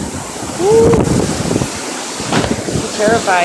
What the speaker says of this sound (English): This wind's serious, dude.